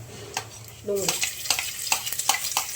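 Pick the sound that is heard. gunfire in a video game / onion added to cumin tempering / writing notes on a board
onion added to cumin tempering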